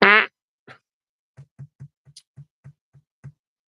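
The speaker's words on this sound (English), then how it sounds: "when the sound guy gets into the fart catalog" Fart sound effect from a sound effects catalog: a loud buzzy blast at the start, then a string of short, soft low puffs spaced about evenly, with silence between them.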